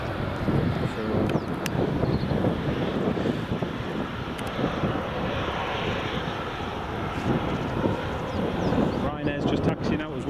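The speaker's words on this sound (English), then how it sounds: "Ryanair's just taxiing out as well, folks," Ryanair airliner taxiing at Edinburgh Airport near runway 24, a steady engine rumble and whine heard outdoors amid gusty wind noise, with someone talking over it throughout.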